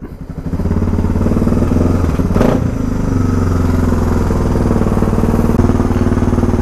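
A Suzuki DR650 motorcycle engine idles steadily up close after starting while warming up, a loud, even rumble with a brief clatter partway through.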